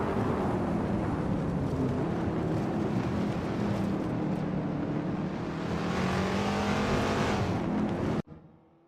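A 1963 TVR Griffith 200 race car engine in a racing video game, a steady loud drone with rising and falling pitch as it holds speed, cutting off abruptly near the end.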